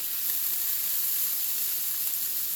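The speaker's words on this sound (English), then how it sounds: "who doesn't like the smell of onion, garlic, and mushroom cooking in the same pan?" Onion, garlic and mushroom fry together in a pan, giving off a steady, close, bright sizzle with an even crackling texture throughout and no talking.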